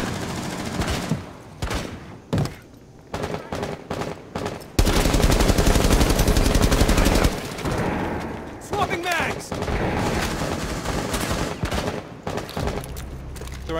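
Gunfire in Rainbow Six Siege, House map team deathmatch: bursts of shots in rapid clusters with a long sustained stretch of dense automatic fire midway, loud and close, with players talking over it.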